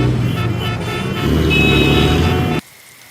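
Steady, loud road traffic rumbles close by with a car horn tone mixed in, then cuts off abruptly near the end.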